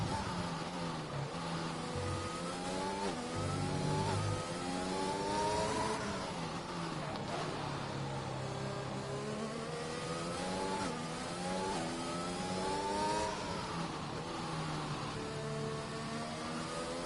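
A high-pitched racing car engine from the F1 2021 game screams and shifts through repeated rising and falling revs at the Hungarian GP, a steady loud whine with no voices.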